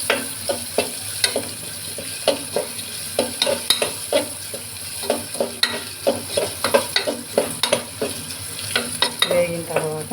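Ridge gourd, potato and chana dal curry cooking in a pan sizzles steadily while a spoon stirs and scrapes in a regular rhythm, close and clear with no talking.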